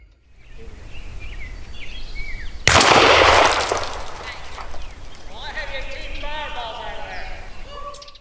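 A Mossberg 500 20 gauge shotgun fires a Hevi-18 TSS turkey load: one sharp, loud blast with a rolling tail outdoors, surrounded by steady background noise and scattered birdsong.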